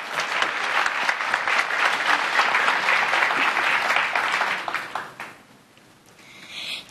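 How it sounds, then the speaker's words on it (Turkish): A small group gives a young girl a burst of clapping after her singing, steady and fairly close for about five seconds before it tapers off into quiet. "Alkış kızıma."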